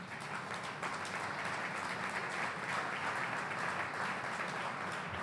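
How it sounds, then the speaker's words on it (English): Audience applause at a career and technical education center ceremony at Harper Community College, an even, sustained patter of many hands clapping at moderate loudness, without speech on top. "So give yourself a round of applause for that."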